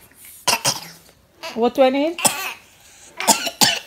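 A young girl coughs a few sharp times close to the microphone, mixed with children's chatter and speaking voices.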